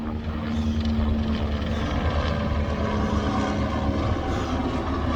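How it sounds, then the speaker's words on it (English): Steady, loud thrum of a helicopter passing overhead, a constant rotor drone filling the whole stretch with no talking. "Pause for the helicopter."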